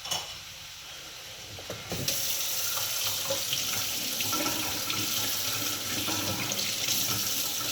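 Kitchen tap running to fill a drinking glass, starting abruptly after a few soft clunks and then pouring in a loud, steady broadband rush close to the listener, with no talking.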